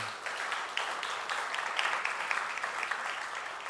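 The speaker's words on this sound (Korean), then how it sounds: "큰 박수 부탁드리겠습니다" A church congregation applauds during a Sunday worship service, a dense, steady wash of many hands clapping that holds evenly for several seconds at moderate volume.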